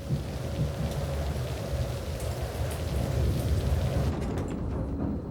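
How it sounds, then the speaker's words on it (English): Heavy rain pours steadily over a dense low thunder rumble, loud and continuous throughout, with no voices. "Right now we have heavy rain on the airport."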